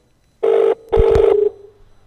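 A phone call being placed: two long, steady electronic tones, each lasting roughly a third to half a second with a short gap between them, followed by a faint tail, loud and close with no talking.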